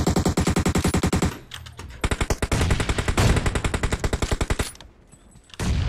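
Rapid automatic gunfire in the video game PUBG, loud close bursts of evenly spaced shots with short pauses between volleys and a final burst at the end.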